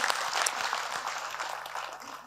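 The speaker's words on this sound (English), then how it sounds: "Let's give these wonderful people a final round of applause" A crowd claps in a steady burst of applause that gradually thins and fades toward the end.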